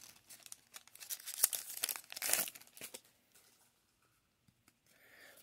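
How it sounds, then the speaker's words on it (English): A foil trading card pack is ripped open at the end, producing loud crinkling and tearing bursts that fade into near silence. "Rip the end of it off and see what we come up with."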